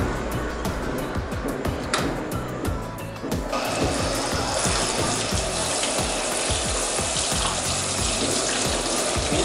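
A Lorenzetti hygienic shower head fitted to a hairdresser's washbasin runs water, a steady hiss that swells into a louder, brighter spray partway through and stays continuous to the end.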